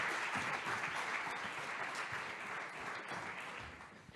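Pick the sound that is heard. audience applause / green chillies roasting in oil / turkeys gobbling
audience applause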